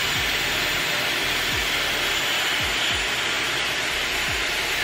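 A Dyson Airwrap hair styler blowing hard and close while curling hair, a loud, unbroken rushing whoosh with a few soft low thumps from handling.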